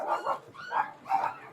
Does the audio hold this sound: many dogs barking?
yes